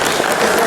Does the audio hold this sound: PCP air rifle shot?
no